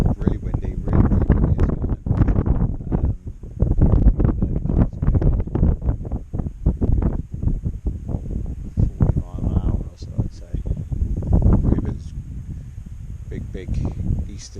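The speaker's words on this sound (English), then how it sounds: "Really windy. Really windy." A person talks while a strong easterly wind blasts across the microphone at a lakeside campsite at Llyn y Fan Fach, in constant low rumbling gusts.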